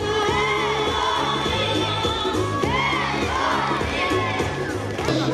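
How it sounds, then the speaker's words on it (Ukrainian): Schoolchildren at an assembly cheer and shout for returning soldiers, a loud crowd of young voices whooping and calling out in rising waves, with rhythmic clapping and chanting mixed in throughout. "Діти гучними оплесками зустрічали бійців та вигукували герої."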